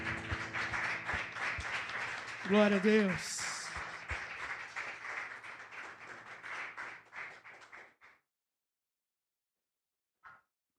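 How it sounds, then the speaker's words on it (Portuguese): A church congregation claps steadily in rhythm while a voice sings and speaks over them, the applause tapering off and ending with a few final claps. "Aplauda ao Senhor Jesus."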